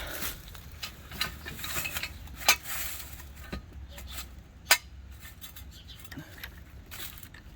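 A car jack on a Gambler 500 project car being lowered onto a jack stand, with intermittent metallic ratcheting clicks, scrapes and a couple of sharp clanks at close range over low background rumble.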